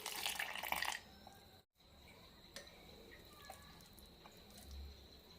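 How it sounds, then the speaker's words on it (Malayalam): Water pours into a mixer grinder jar holding cooked rice, a brief hissing gush at the start, then faint trickles and drips in a quiet kitchen with no voices. "കുറച്ച് വെള്ളം കൂടി ഒഴിക്കാം."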